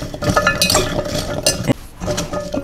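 Carrots and other ingredients for fermented carrots being mixed in a bowl, with busy stirring, scraping and light clinks of a utensil against the dish, close and fairly loud.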